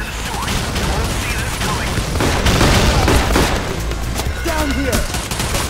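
A turret in the video game Payday The Heist fires continuous rapid bursts, a dense, loud rattle of gunfire that runs through the whole stretch amid other combat noise.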